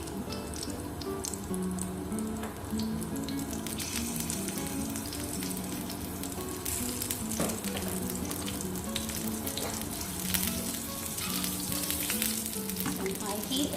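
Green chilies sizzle in hot oil for red lentil dal, a continuous crackling fry with occasional stirring and light pops, close and steady with no talking.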